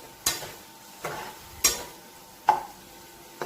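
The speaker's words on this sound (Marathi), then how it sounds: "गॅसच्याच कमी ठेवून छान असं परतून घ्यायचं." Masala vegetables being sautéed in a pan over a low flame: quiet, sharp scrapes of a spoon against the pan at regular intervals, over a faint sizzle, with no talking.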